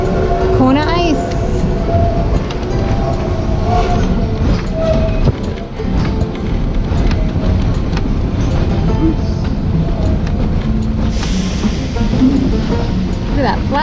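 A train rolls through museum grounds, its steady low rumble and clatter of open rider cars and an old coach carrying on continuously at close range, with people talking over it.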